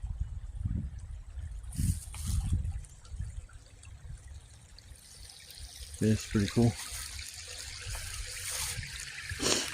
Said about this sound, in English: I just dig the waterfall.